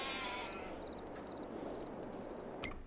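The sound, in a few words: sheep bleating in a pen, from the video game Farming Simulator 22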